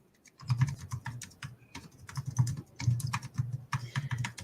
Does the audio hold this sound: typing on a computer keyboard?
yes